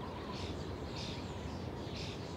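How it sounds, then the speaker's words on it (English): Starlings calling near a wild horse herd sheltering by trees on the Hungarian plain, heard as faint repeated chattering bursts over a steady broadband wind rush. "The starlings join them."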